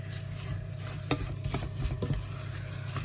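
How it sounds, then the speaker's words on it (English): Flapjack mix with oats being stirred in a pan, a soft continuous scraping and sizzling with a few sharper knocks of the spoon against the pan partway through, close and fairly quiet. "So just keep stirring it, really bring it all together into one unit"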